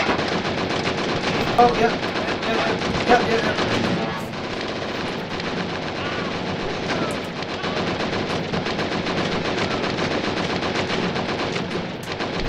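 Rapid machine-gun fire from the VR shooter game Operation Warcade, continuous and loud for the whole stretch, dense bursts with no pauses, while a player briefly exclaims over it.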